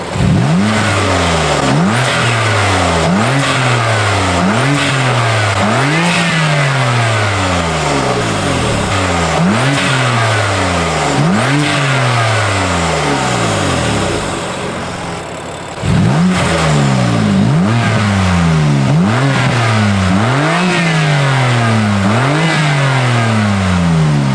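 A BMW F80 M3 fitted with titanium front-mount intakes revs hard and repeatedly, loud sweeping rises and falls with turbo spool whistle and intake whoosh, one brief dip to quieter idle midway.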